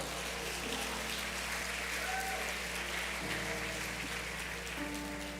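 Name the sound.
church congregation applauding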